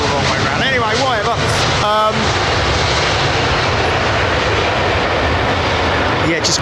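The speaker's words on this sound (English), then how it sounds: "The sound of the Merlin firing up." A Rolls-Royce Merlin aircraft engine starting up, a loud, dense roar that is sustained throughout, with voices talking over it near the start.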